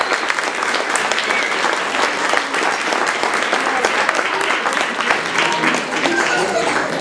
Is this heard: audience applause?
yes